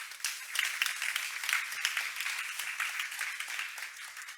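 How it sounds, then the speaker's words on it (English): Audience applause at a sanitation meeting session, a fairly quiet, steady patter of many hands clapping that swells slightly and then holds, heard from some distance with no speech over it. "give a round of applause for Peter and Jennifer"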